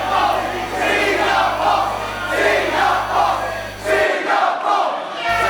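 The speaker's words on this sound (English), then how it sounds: "the Singapore crowd is vocal and in full force for Andrew Tang" Singapore crowd at a live wrestling match, a loud sustained roar of cheering and chanting in waves, cutting out abruptly for about a second before resuming.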